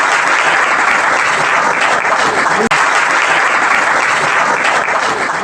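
A packed room at a coaching class applauds loudly to welcome Rajpati, selected in the SSC GD exam, onto the stage: thick, sustained clapping from many hands, steady throughout with one brief dip midway.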